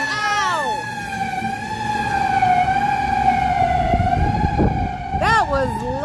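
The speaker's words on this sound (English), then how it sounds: "We got a fire engine." A fire engine's wailing siren holds a long steady tone, then swoops rapidly up and down as it passes close by, loud over low traffic rumble, with people talking underneath.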